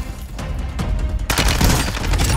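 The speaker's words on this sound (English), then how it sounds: "We got a rocket launcher kill." An RPG rocket launcher fired in a shooter video game, with loud, dense blasts and booming explosions packed together and building to a heavy burst partway through, close up and with no talk.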